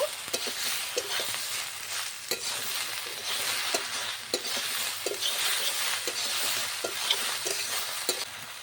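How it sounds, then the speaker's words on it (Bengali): Okra and potatoes frying in a pan give a bright, continuous sizzle, punctuated by regular clicks and scrapes of a utensil stirring them, heard up close. "ভালো করে ঢেঁড়স আর আলুটাকে ভেজে নেব"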